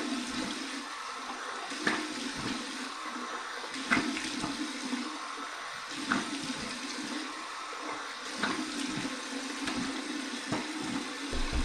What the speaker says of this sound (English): here's my final cold water rinse